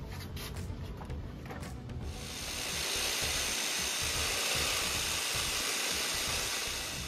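Ingco 570W electric jigsaw cutting wood, a steady buzzing hiss of the reciprocating blade that swells louder after a couple of seconds and keeps running close by.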